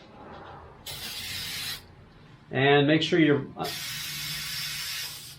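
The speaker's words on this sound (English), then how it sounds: "So spray it on," Two hissing blasts from an aerosol can of spray adhesive, separated by a brief stretch of speech.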